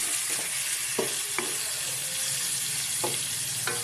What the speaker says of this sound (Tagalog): It's time naman na ilagay po natin itong ating pusit